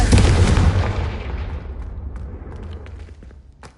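A Confringo fire-blast spell explodes in the video game Hogwarts Legacy with a loud, deep boom that rolls and decays over several seconds, fading into scattered faint crackles.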